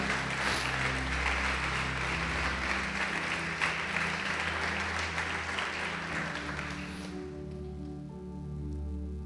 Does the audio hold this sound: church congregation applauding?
yes